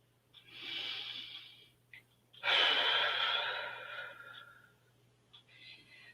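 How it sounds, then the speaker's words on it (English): A slow, deep inhalation and a long, audible exhalation during a relaxation exercise, close and soft, followed by a quieter breath, over a faint steady hum. "Take a second deep breath and exhale."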